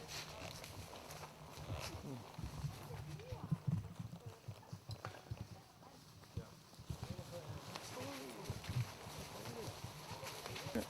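Horses at Elk Mountain Riding Company clip-clop steadily at a walking pace nearby, with people talking over the rhythmic clopping throughout.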